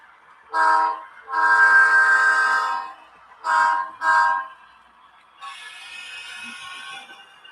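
A scale model train sound, heard as loud, close horn blasts: one short toot, a long one, then two short ones, followed by a fainter hissing sound, with no voices.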